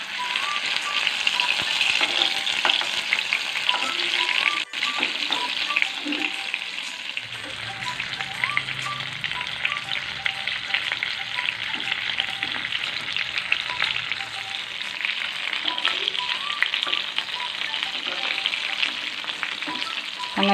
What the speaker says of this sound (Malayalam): ചിക്കൻ ഒരു വശം ഫ്രൈ ആയി വന്നിട്ടുണ്ട്.